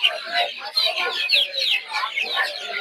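Brahma chicken chicks at a busy Saturday poultry market in Narsingdi cluck and cheep loudly and continuously at close range, a dense overlapping flock chatter.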